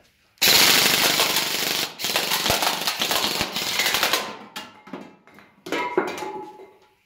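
An M401 gel blaster fitted with a WARFET MOSFET, set to 80% rate of fire, rattles off a long loud full-auto burst up close, followed by a few shorter bursts and clicks.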